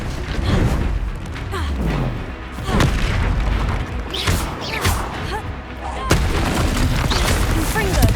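Confringo fire spell explosions in the video game Hogwarts Legacy: repeated heavy booms over a continuous roaring battle din, loud and close, with a voice shouting at times.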